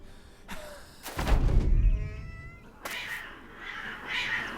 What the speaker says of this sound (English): it sounds like someone has just taken their iPhone and recorded a cat having a fight in the hallway